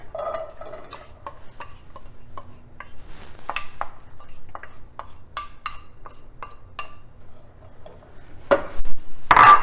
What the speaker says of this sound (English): I'm just gonna put that on like a medium-high heat and then get the onions and green peppers into the pan